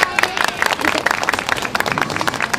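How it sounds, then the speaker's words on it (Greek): An audience applauds at a Christmas celebration in Marousi, with dense, steady clapping from a crowd, close and lively, and a murmur of voices underneath. "Τώρα πάει το χειροκρότημα."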